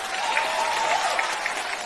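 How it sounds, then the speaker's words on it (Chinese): A studio audience at a televised singing competition applauds after a Chinese-style pop duet, a full, sustained round of clapping with faint crowd noise and no voices. "请再给他们点掌声好吗"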